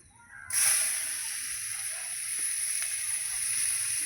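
Whole spices of cardamom, cloves, peppercorns and cinnamon drop into hot oil with onion, bursting into a loud, bright sizzle that holds steady and close after a quiet start.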